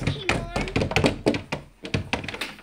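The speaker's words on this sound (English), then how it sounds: "I think y'all need to bang on the door" Children bang on a closet door in a rapid run of dull, hollow thumps, loud and close, with kids' voices talking over and between the knocks.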